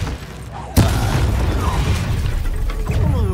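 The Glacius spell strikes in Hogwarts Legacy with a sudden sharp impact burst, followed by a sustained crackling, rumbling wash of magical effects under a faint voice.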